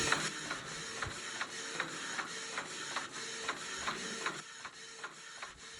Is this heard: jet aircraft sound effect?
no